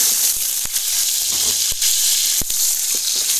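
Potatoes for a curry fry in hot oil in a pan, giving a loud, steady sizzle with a few sharp crackles and pops and no one talking.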